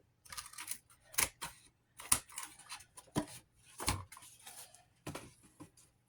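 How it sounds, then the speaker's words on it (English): Scissors snip through craft material while a miniature fairy house is being built, several sharp, close cuts in an uneven rhythm separated by short pauses, with no voices. "I'm just going to cut that piece off then."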